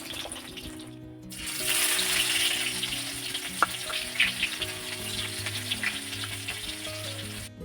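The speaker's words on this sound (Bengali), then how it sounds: "প্রথমে জিরা সম্বার দিয়ে দিলাম তারপরে এই যে পেঁয়াজ কুচি দিয়ে দিলাম এটাকে একটু ভাজা ভাজা করে নিয়ে" Cumin seeds and chopped onion hit hot oil in a wok for a fish curry, bursting into a loud, steady sizzle after a brief quiet start, with a few stirring taps over a low hum.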